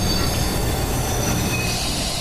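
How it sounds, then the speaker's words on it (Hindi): A train slowing into a station, with loud, continuous squealing wheels and rolling rumble from start to finish, no voices. "ट्रेन स्लो होकर रुक चुकी है।"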